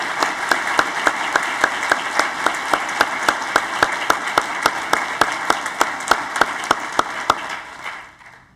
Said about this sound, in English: So I think we should all give Aaron a huge round of applause.